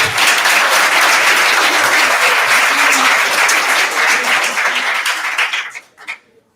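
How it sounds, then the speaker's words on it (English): Sustained applause from an audience at a township committee meeting, loud and steady for about five seconds before tapering off into a few scattered claps. "Another round of applause."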